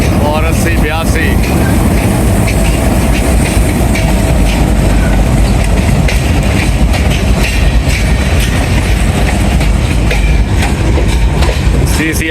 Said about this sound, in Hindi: CCM कोल्ड ट्रेन है